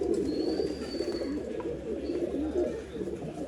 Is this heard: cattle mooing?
no